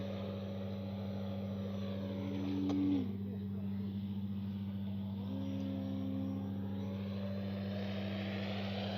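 An E-flite Carbon Z T-28 RC warbird plane takes off from grass, its electric motor whining steadily with a rising pitch near the middle, over a constant low hum.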